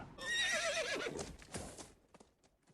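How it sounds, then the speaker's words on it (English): Horses across a river in a King Arthur story scene, with a loud, close whinny followed by a few fading hoofbeats. "Then they heard horses across the river"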